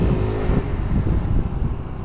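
Yamaha Tricity three-wheel scooter ridden slowly, its engine giving a steady low hum mixed with wind buffeting, close and continuous.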